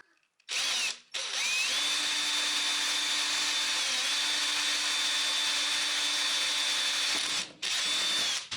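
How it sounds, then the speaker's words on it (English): A borrowed electric drill whirs loudly and steadily for several seconds after a brief start, then stops and briefly spins up again, during a cargo trailer build. "I've borrowed my wife's drill here and I'm ready to"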